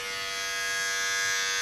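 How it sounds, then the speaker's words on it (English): Electric clippers shaving a person's whole head make a close, steady, high-pitched motor buzz that swells slightly in loudness as the blades move across the scalp, with no talking. "So we're gonna use this to shave the whole head."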